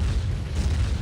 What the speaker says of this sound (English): One trick to keep in mind though is look at the delay on the grenades.